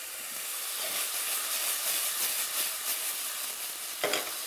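Onions browning in a pan for onion-spiced lamb chops, a dense continuous hiss and sizzle filling the whole stretch, with a brief clatter near the end and no talking.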